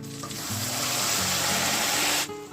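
Plums frying loudly in hot mustard oil with garlic and chilli, giving a dense, close, continuous sizzle that starts abruptly and cuts off just before the end.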